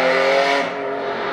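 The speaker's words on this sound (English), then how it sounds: "It was a V8 though, but a supercharged V8. F-Type SVR." Jaguar F-Type SVR supercharged V8 exhaust note, a loud, dense roaring tone that eases off partway through, with no talking over it.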